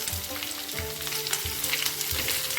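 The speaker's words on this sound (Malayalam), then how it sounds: "ഇതൊന്ന് നല്ലതുപോലെ ഒന്ന് വഴറ്റിയെടുക്കാം നമുക്ക്" Chopped large onion and shallots sauté in a pan, giving a close, continuous frying sizzle with regular scraping spatula strokes roughly every half second.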